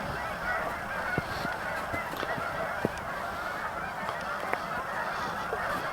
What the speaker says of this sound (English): I'm coming on thousands and thousands of geese, it seems.